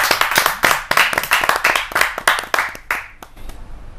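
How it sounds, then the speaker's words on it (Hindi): Loud clapping from an audience at a Hindi kavi sammelan poetry gathering, close sharp claps in a brisk rhythm that thin out and stop near the end. "जा जोरदार ताली बजा।"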